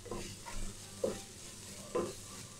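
Kerala-style mushroom masala being stirred and fried in oil in a pan, a soft steady sizzle broken by a few scraping strokes of the spoon, close and quiet.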